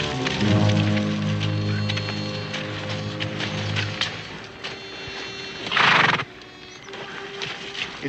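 A horse whinnies loudly nearby, with hoof clops and a patter of rain around it, then a second burst of noise before settling.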